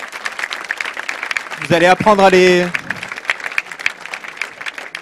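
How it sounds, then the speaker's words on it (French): An audience applauds the sponsors at the launch of the ESTIA 24h innovation event, a scattered, fairly brief clapping texture running under a voice that speaks loudly over it. "Merci de les applaudir parce que c'est quand même grâce à eux qu'on fait ça"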